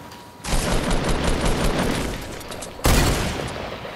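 Heavy shotgun blasts in Fortnite gameplay: one long booming burst, then a second sharp blast near the end, loud and close with no talking.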